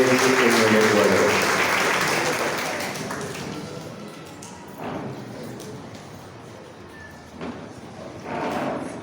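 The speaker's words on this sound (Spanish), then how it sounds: "recibimos con un fuerte aplauso a Fray Luis Castro de los hermanos menores en el Ecuador" A crowd gives strong applause to welcome Fray Luis Castro, a Franciscan friar, at a gathering on the Franciscan mission in Zamora Chinchipe. The clapping is loud and full at first, then dies away into quieter room noise and a few scattered sounds.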